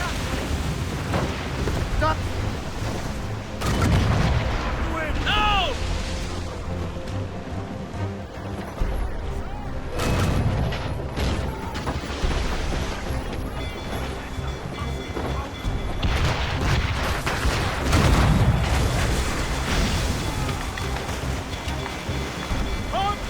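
Ship cannons boom repeatedly during a naval battle in Assassin's Creed Rogue, heavy blasts scattered across the scene amid rumbling battle noise and shouted voices.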